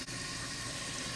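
Lukewarm tap water runs steadily into a sink while a makeup brush is cleaned, a continuous close, even splashing rush with no talking.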